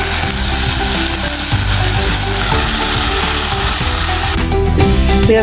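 Leafy greens tipped into a pan of cooked-down spice paste for a greens and dried-fish dish, giving a loud, steady close-up sizzle with stirring and scraping that brightens toward the end.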